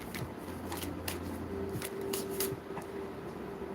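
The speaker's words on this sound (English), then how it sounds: "I'm just going to kind of shuffle like this." A new tarot deck is shuffled by hand in soft, quick papery riffles and slides, faint and close, with no voices.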